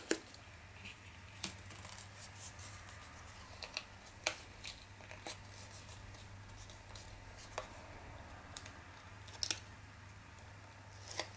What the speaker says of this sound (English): cut your corner bits